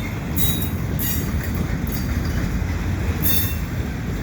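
A CN welded rail work train backs slowly through Dorval in winter, a steady heavy rolling rumble with repeated high-pitched wheel squeals close by.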